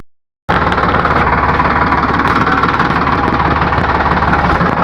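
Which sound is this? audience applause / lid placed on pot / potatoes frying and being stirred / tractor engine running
tractor engine running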